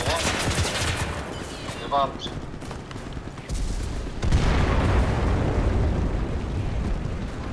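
Sustained gunfire and heavy tank cannon booms in the World War II shooter Enlisted, a loud rolling barrage with deeper blasts midway, under talking voices.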